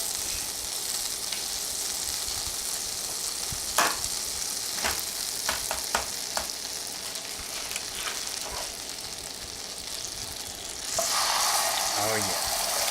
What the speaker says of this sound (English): We're going to want to sear our chops down